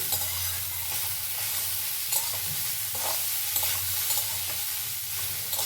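Papaya and potato pieces frying together in a pan are stirred, giving a steady close sizzle with soft scrapes and light knocks from the spoon throughout.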